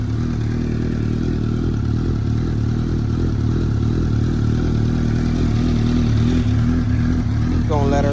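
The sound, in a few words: Suzuki GSX-R motorcycle engine idling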